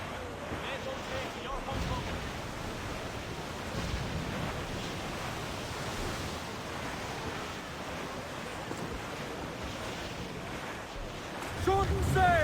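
Wind and ocean waves during a squall at sea in Assassin's Creed IV: Black Flag, a steady broadband rush of surf and gusting wind with no break, swelling slightly near the end.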